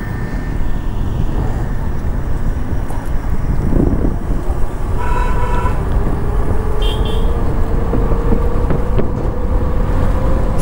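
A Bgauss D15 Pro electric scooter accelerates on a road test ride, its faint motor whine rising steadily in pitch beneath loud, constant wind rush buffeting the microphone.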